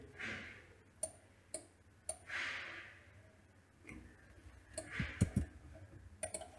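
Computer mouse clicks while working in Tableau software, a handful of sharp single clicks spaced irregularly with soft breathing and quiet desk sounds between them.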